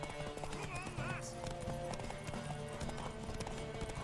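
Horse hooves clip-clop steadily in Witcher 3, with a brief whinny and a speaking voice layered over a busy game soundscape.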